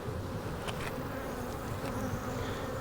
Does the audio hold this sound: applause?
no